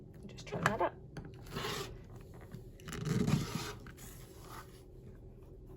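A rotary cutter trims a fabric split quarter square triangle quilt unit with quiet scraping strokes, two brief bursts of rubbing and cutting close by, with a voice talking around them.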